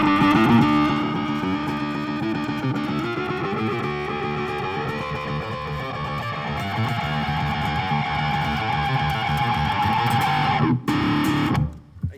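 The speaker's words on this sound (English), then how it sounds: "And then I got a full tone Clyde wah wah pedal" Distorted electric guitar played through a Fulltone Clyde wah pedal, its tone sweeping and swelling as notes ring out steadily before stopping abruptly near the end.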